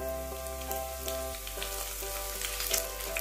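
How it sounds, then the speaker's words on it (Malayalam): Cumin, urad dal and three dried red chillies frying in oil for a Kerala raw mango sambar, a close, even crackling sizzle with light popping over a low electrical hum. "ഇതെല്ലാം കൂടി ചേർത്ത് നന്നായിട്ട് മൂപ്പിച്ചെടുക്കണം"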